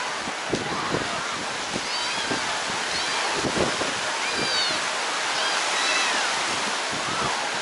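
Ocean waves surge and break repeatedly along Clearwater Beach on a windy day, a broad continuous roar of surf with wind buffeting the microphone and faint distant voices.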